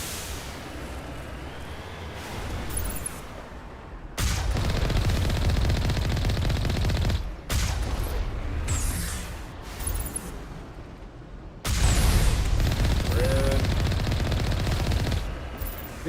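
Turrets in Mass Effect 1 fire long, loud bursts of rapid gunfire in several separate stretches, broken by short quieter gaps.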